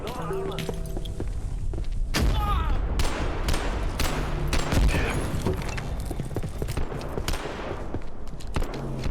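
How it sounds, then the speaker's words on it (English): Gunfire in the survival video game Abiotic Factor: repeated sharp shots and bursts crackle over a steady, dense background of game noise, fairly close and loud, with sporadic thuds between volleys. "there's another guy back there shooting it too"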